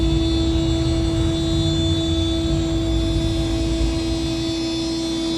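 A CNC machine spindle spinning at 18,000 RPM cuts Perkins 4-108 diesel engine gaskets, a loud, steady high-pitched whine with a constant tonal drone and no break.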